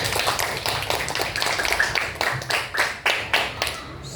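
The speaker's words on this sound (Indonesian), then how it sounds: "Tepuk tangan buat kita semuanya" Primary school pupils in an Indonesian classroom clap their hands together, a brisk run of sharp, close claps that ends in a few distinct rhythmic slaps.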